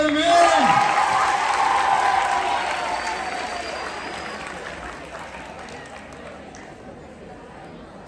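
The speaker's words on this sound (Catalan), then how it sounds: "Un fort aplaudiment!" Audience clapping at a secondary school end-of-year closing ceremony, loudest at the start and gradually fading over several seconds, with a brief voice at the very beginning.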